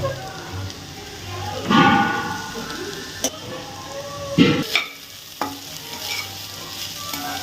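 Cooked rice being stirred into a beetroot mixture in a hot pan, with soft sizzling and repeated scraping, stirring sounds, plus a few sharp utensil taps against the pan, close and steady.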